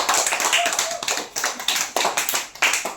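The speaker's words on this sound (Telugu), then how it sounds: "అందరూ క్లాప్స్ కొట్టండి" Children clapping in a classroom, close and fairly loud, with separate bursts of claps arriving in an uneven rhythm and short pauses between them.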